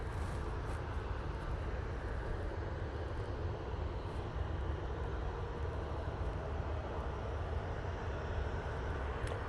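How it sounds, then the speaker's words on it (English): Ryanair Boeing 737-800 taking off for Rabat, a steady broadband jet roar held at constant level throughout, fairly distant and low in volume with no voices over it. "Next arrival, departure I should say, is this Ryanair."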